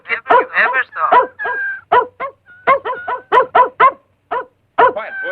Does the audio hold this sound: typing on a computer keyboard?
no